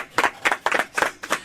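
Audience clapping during a special studio broadcast on Radio Nour, a handful of people beating out quick, uneven bursts of claps at close range with no voices over them.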